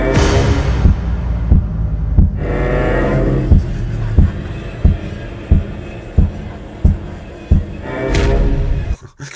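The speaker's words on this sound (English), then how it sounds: "I picked one of the sounds that is sort of a knock really, but I made it sound a bit like a heartbeat" A deep, thumping sampled knock shaped like a heartbeat repeats in a steady pulse over a droning, swelling background, with one beat skipped near the end.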